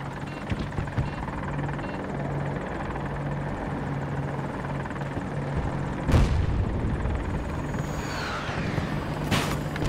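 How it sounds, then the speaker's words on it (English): A helicopter in the Battlefield 2042 video game drones steadily throughout, with its rotor hum constant under game noise, a sharp boom about two-thirds through, and a whooshing sweep near the end. "Hell yeah, there's a chopper coming up."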